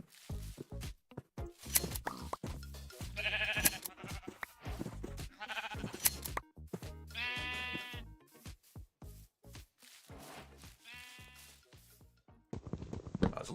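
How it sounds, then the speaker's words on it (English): Sheep bleat in a video game, several wavering calls spread among clicks and rustling effects, moderately close with no talk over them. "Come back here, sheep."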